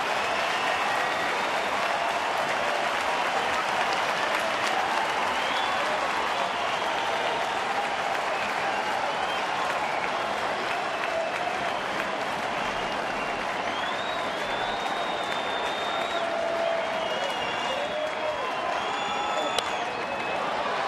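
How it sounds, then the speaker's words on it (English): A baseball stadium crowd at a Baltimore at Detroit game rises to its feet, applauding and cheering in a broad, continuous roar with whistles poking through, steady and sustained for about twenty seconds. "Now the crowd coming to its feet."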